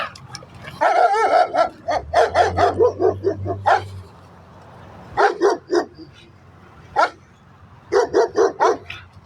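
Several dogs bark in short bursts, a loud cluster of rapid barks at the start, then scattered single and paired barks, with a low hum beneath.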